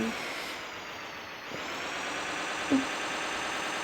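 A truck braking in the Cargo Simulator driving game: a steady broadband rumble of engine and road noise fills the clip, with a brief hiss and a short thump near the end.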